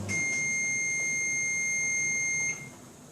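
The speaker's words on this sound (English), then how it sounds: "the timer goes off when I've got feta all over my fingers" A kitchen timer beeps with a steady, piercing electronic tone that holds for about two and a half seconds before cutting off, loud and close, leaving faint room noise with no voices.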